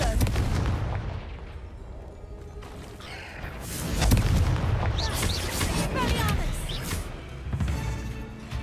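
Repeated Confringo blasting-spell explosions in the Hogwarts Legacy video game, deep booming bursts with crackling tails echoing through a maze-like cave, several blasts in succession amid game effects and a brief voice.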